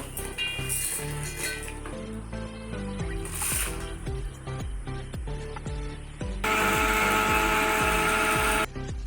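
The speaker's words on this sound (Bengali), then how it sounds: "সবগুলোকে একসঙ্গে মিক্সিতে গুঁড়া করে নেব" Mixer grinder whirs loudly for about two seconds as it grinds fried spices and dried red chillies for mango pickle, following a stretch of background music.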